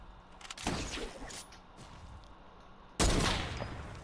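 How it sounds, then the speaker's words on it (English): Gunshots in the battle royale video game Fortnite, with two separate loud cracks roughly two seconds apart over a faint background, and no talking. "he just shot at me"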